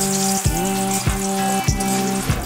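Whole cinnamon, cardamom and bay leaves sizzle in hot oil for a pangas fish curry, a continuous close frying crackle with a few soft stirring knocks at regular intervals.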